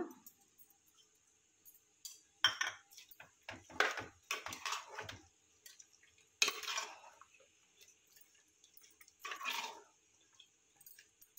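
Spoon scraping and clinking against a pot while chicken curry with fried onions is stirred, giving scattered close metallic scrapes and taps between quiet pauses.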